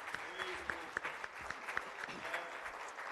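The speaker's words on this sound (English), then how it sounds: "Can you give the Lord a hand clap of praise today?" A church congregation claps in a rhythmic, fairly steady beat during Pentecostal worship, the hand claps soft and somewhat distant in a reverberant room.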